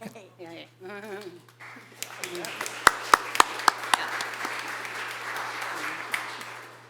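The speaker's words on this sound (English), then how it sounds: "we're clapping today" Audience clapping at a Pacifica City Council meeting in a chamber, starting after a speaker's voice and building into steady applause with a few sharp, close claps standing out, lasting several seconds.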